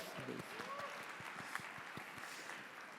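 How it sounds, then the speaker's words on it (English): Audience at a Konkani community gathering applauds a speaker, a soft, distant wash of clapping with a few sharper individual claps and faint voices underneath. "Give him a big applause"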